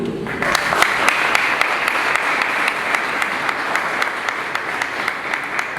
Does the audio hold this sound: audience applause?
yes